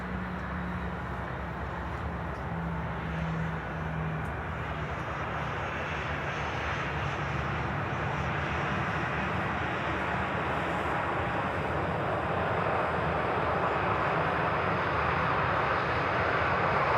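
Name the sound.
Transavia airliner passing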